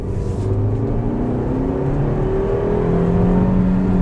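A 2022 Suzuki Vitara Full Hybrid engine revs up under acceleration, its droning pitch climbing steadily and loudly through the gears of its automated manual gearbox, heard from inside the vehicle without talk.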